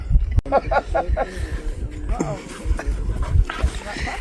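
A Cocker Spaniel whimpers and gives short, sharp barks in bursts, up close, while people talk over it outdoors on an overlanding trip in Utah's Bears Ears area.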